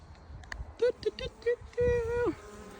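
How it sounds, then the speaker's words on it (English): A swarm of honeybees from backyard beehives buzzes close by in uneven bursts, some short and one longer droning stretch that slides down in pitch at the end. "A swarm from my beehives"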